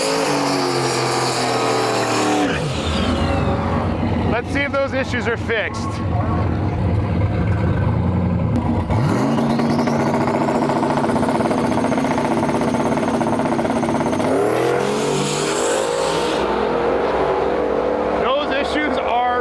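A drag race car at a Drag N Drive event makes its pass, engine roaring loud and close. It revs, drops and climbs again through shifts while a commentator talks over it.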